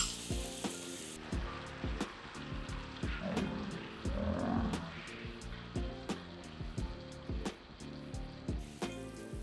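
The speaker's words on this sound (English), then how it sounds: "When you cook your bulgogi, try to cook it a little bit in a lower heat." Korean bulgogi sizzles in a pan over fairly low heat, a steady close crackle and hiss running under a rhythmic background beat.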